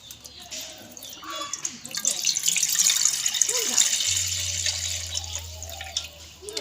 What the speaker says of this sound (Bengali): দেখুন, আমরা দুধটাকে ছেঁকে নিচ্ছি।